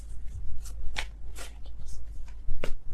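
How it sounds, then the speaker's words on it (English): Tarot cards riffled in a few loose, sloppy shuffles, each a brief papery burst at close range, separated by short pauses over a low background hum. "I feel like these are all sloppy shuffles."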